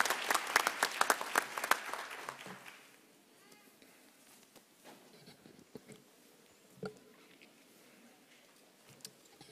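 Loud, dense applause from a graduation ceremony audience after the national anthem, strongest at the start and then fading to scattered claps and faint murmurs, with a brief voice near the end.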